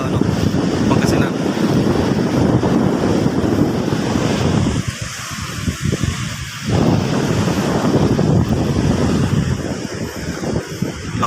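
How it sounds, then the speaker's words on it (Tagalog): Steady roar of heavy surf and wind buffeting the microphone at a river mouth near Dagupan, Pangasinan, loud throughout with a brief lull midway. "Lakas ng alon."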